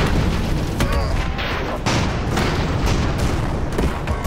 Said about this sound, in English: Torpedo.